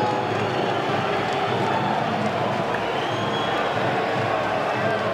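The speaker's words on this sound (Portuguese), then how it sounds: "E com muitas vaias, os torcedores do CSA" Crowd of CSA football fans booing at the final whistle of a Copa do Brasil qualifier match against CSE, a dense, steady roar of voices filling the stadium throughout.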